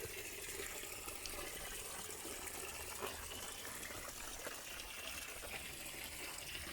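Water gushing steadily into a koi pond filter box, a continuous splashing rush at moderate level with small bubbling spatters, heard alone without talk.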